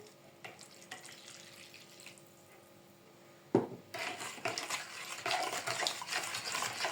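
Water is poured, and then a spoon stirs a salted water mixture for dough in a bowl with scraping, sloshing strokes that grow louder and busier.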